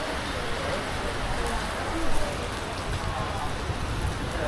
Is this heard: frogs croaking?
no